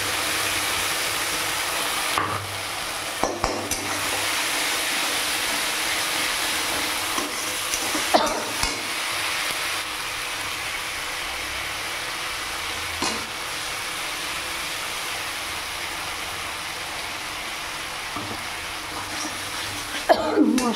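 Spices stirred into onions already fried light red in a pan on a gas flame, for a fish curry; a steady broadband sizzle with occasional scraping stir clicks runs throughout, moderately loud and without talk.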